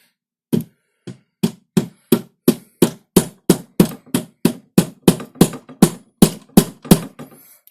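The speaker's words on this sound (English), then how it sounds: "So I'm going to chisel the corner with this mallet." Stanley rubber mallet striking a chisel into wood, a steady series of about seventeen sharp, evenly spaced knocks, close and loud with no talking.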